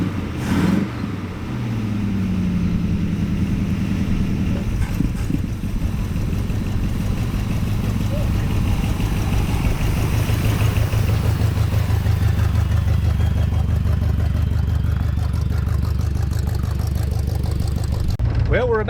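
A V8 Buick LeSabre engine running again after sitting for 34 years, a loud steady idle with a brief rev at the start, continuous low rumble close by, ending abruptly.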